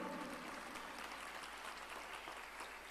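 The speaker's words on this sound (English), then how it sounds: "a big round of applause to all the toppers" An indoor audience at an orientation programme gives a round of applause to the toppers, a steady patter of many hands clapping, faint and even throughout.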